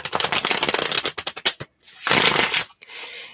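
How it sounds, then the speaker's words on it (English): Playing cards being shuffled up close in quick rapid riffles, followed by a short pause and a second brisk burst, crisp and alone without talk. "wait there patiently while I shuffle the cards"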